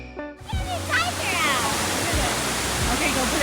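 A waterfall near Tatev, Armenia roars as a constant, loud wash of rushing water, with a voice speaking briefly over it at the start.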